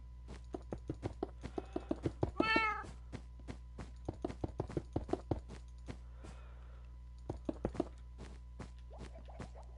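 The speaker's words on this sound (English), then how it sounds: "the kitty cats do make some noise" Several domestic cats meow in a short rising-falling burst, with soft rhythmic tapping like footsteps or hooves running steadily through the background around it.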